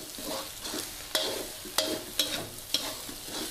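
Garlic pork with egg stir-fries in a wok, a steady sizzle punctuated by about four sharp scraping strikes of a spatula tossing the food, close and fairly quiet.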